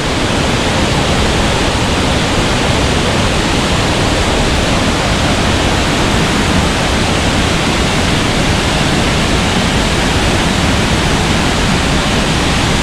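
A strong rush of waterfall water pours beneath a bridge as a steady, dense roar, loud and unbroken from start to finish, with no voices.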